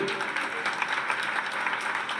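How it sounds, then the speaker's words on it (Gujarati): An audience at a Hanuman Chalisa katha gives Swami Nautam Prakashdasji a warm welcome with steady, dense applause that holds an even level throughout with no gaps. "તાળીઓથી વધાવો ભાઈ"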